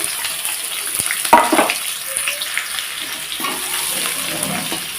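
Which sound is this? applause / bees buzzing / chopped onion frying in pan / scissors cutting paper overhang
chopped onion frying in pan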